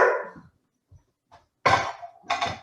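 A dog barks indoors: a single bark at the start, a few faint soft sounds, then two loud, sharp barks close by near the end.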